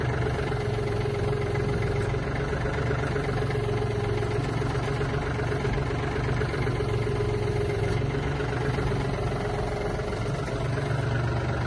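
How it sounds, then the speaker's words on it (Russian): Yanmar AF-24 compact mini tractor with its engine running steadily at idle while the hydraulic cylinder operates, giving a continuous mid-low drone with no clear changes. "Работа гидроцилиндра."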